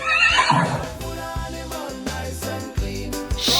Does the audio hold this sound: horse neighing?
yes